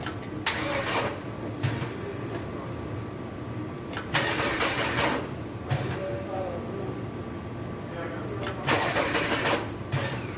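A Mercedes 220E Sportline engine cranks repeatedly in several short bursts, each attempt whirring briefly without catching, with steady background noise throughout.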